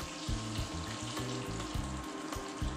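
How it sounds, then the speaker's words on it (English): Chicken frying in a pot for a one-pot chicken and rice dish gives a loud, close, steady sizzle with crackling bursts, alone without any talk. "I love the sound of that sizzle."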